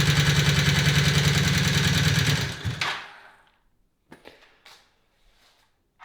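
A Honda CB250 Super Dream motorcycle engine runs with the throttle held slightly open, a close, steady buzzing chatter for about two and a half seconds before it cuts out, leaving a few faint clicks and knocks.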